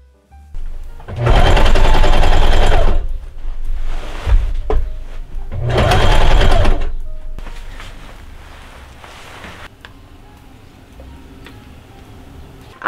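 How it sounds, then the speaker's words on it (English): A sewing machine stitches a trench coat, attaching an epaulette and belt loops, in two loud sustained runs of a couple of seconds each, with quieter handling and clicks between and after them. "Then I sewed my epaulette to the shoulder of my sleeve and some belt loops for my sleeve strap."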